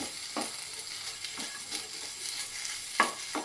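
Garlic, green chilies and gongura leaves sauté without oil over low heat in a pan with a soft, steady sizzle, broken by occasional scraping stirs and light clinks, heard up close at low volume.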